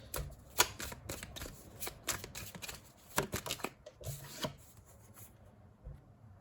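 Tarot cards shuffled by hand in a quiet room: repeated crisp riffling bursts and soft rubbing slides, fairly close, coming in uneven clusters before fading to near silence.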